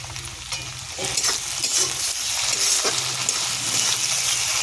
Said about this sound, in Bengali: চিংড়ি মাছ পেঁয়াজ একসঙ্গে ভেজে নেব।